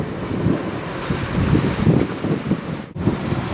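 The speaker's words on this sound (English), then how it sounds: "We're having 25 knots of wind" Strong 25-knot wind at sea aboard a sailboat on the Mediterranean off France, roaring steadily across the microphone in rough gusts with the wash of waves beneath. No one speaks.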